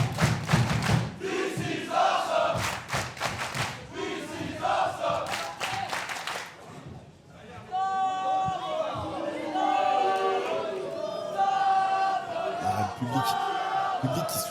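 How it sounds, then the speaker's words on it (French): A live wrestling crowd at a tag-team match roars and cheers loudly, swelling with chants and shouts over thuds from the ring, while commentators talk over the noise. "Et quel pop de la part du public."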